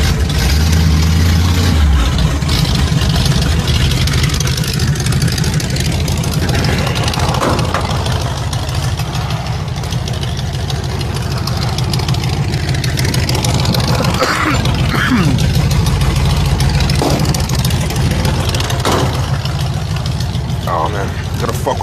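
A big block Ford engine in a rat rod is cranked and cold started, then runs with a loud, rough, lumpy idle throughout, close by, while someone talks over it.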